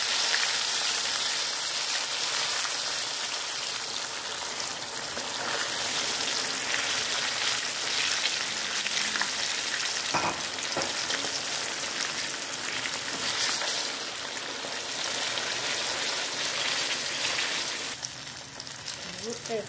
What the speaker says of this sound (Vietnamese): Bây giờ mình đi bắt đầu lại mình chiên nha các bạn